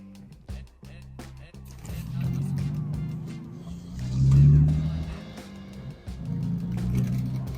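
2004 Morgan Roadster with a 3-litre V6 driving with the roof down, its engine a low rumble that swells in the middle and again near the end, with someone talking over it.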